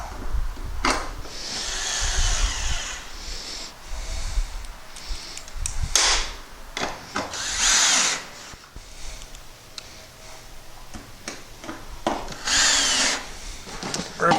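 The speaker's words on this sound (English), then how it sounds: "line everything up, and we're going to reinstall the Phillips bits" A power drill drives Phillips bits into a metal shed in short, repeated whirring bursts, each followed by pauses, clatter and metal handling noises. The bursts are close and loud, with no talk.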